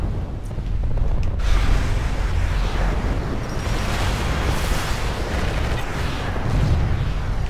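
Heavy weapons fire and explosions in the MechWarrior Living Legends game during a raid, a loud continuous rumbling barrage of booms and blasts with no pauses.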